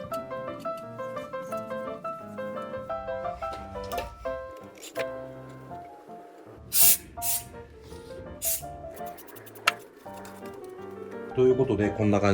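Silicone spray hisses from a can onto the steering wheel of a Subaru Sambar truck, in several short, sharp bursts close by, with quieter handling sounds between them.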